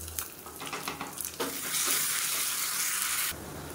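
Cumin, red chillies, curry leaves and chopped shallots fry for a tempering, giving a close crackling sizzle with stirring clatter that swells into a loud, sustained hiss before easing off.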